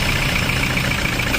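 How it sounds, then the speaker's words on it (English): A Toyota Hilux engine with a turbocharger boost control circuit fault idles steadily, a loud, close, continuous rumble with a constant hum throughout. "Let's start the vehicle up."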